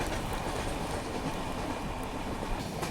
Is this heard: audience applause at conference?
no